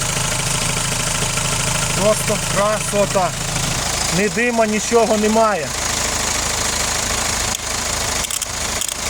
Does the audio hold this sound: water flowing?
no